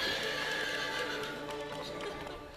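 A horse gives a loud, close whinny over the clatter of hooves on rock, with the neigh fading near the end.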